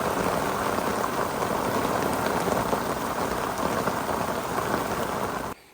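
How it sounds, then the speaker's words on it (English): Heavy rain pours down at a fishing lake, drumming hard and without a break on a nearby surface, then stops abruptly at the end. "to then it pissing down the rain and getting soaking wet with rain"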